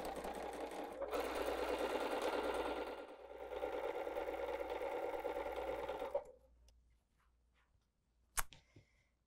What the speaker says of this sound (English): And we'll sew that closed by 1/8 of an inch.